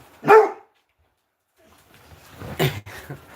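A bulldog gives two separate barks, the first sharp and loud, the second lower and rougher after a short silence, recorded close by.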